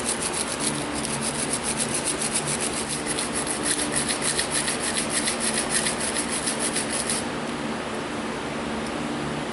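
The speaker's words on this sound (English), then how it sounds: "we're going to take our wire brush, go ahead and finish cleaning off the bottom" A wire brush scrubs corrosion off a Toyota Corolla battery terminal with fast, steady back-and-forth strokes, a close, even rasping that runs for about seven seconds before easing off.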